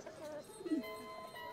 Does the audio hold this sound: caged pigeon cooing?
yes